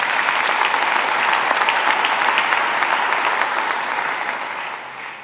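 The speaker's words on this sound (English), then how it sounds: "You should give yourself a round of applause." A crowd applauds steadily for several seconds at an MLK Day celebration in Rochester, a dense wash of clapping that gradually fades toward the end.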